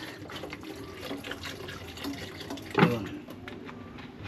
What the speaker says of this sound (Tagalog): lagyan ko ng Sprite.